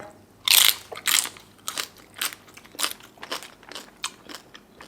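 Crisp crackling bites into crispy-skinned roast suckling pig, a loud close crunch followed by a string of rhythmic chewing crunches that gradually soften.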